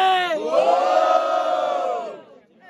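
A crowd at a Brazilian rap battle roars, cheers and shouts in one sustained swell of voices, loud and close for about two seconds before fading out.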